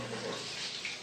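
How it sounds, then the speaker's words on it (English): Faucet water sprays and splashes across bathroom surfaces during a deep clean after toilet cleaner is applied, a soft, steady rushing flow heard alone. "I'm going to rinse the bathroom with this"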